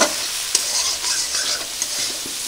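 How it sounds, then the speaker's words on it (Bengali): Potato pieces fry in hot oil in a pan while a Bengali rui fish kalia is prepared, giving a steady bright sizzle with a few soft stirring taps. "এবার আমি আলুগুলো একটু ভেজে নেব।"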